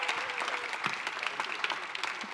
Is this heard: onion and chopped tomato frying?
no